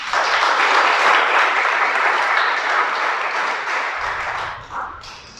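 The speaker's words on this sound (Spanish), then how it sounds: "Dale un aplauso al creador." Congregation applause during a Spanish-language church sermon, loud dense clapping that gradually thins and fades toward the end, with a few scattered claps and noise trailing off.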